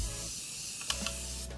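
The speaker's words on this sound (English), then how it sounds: "I'm going to go set my face with the Morphe setting spray" Morphe setting spray misting onto a face, a steady close hiss that runs the whole time with a couple of quick puffs near the end.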